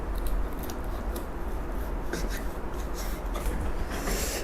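A knife slices open a cooked Korean convenience store steak, with steady scraping and rubbing cuts in a close, continuous stretch.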